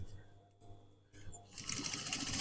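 A sewing machine overlock-stitches denim jeans while a tassel is added. The clip starts with quiet handling and a faint hum, then the machine whirs louder and steadily from midway to the end.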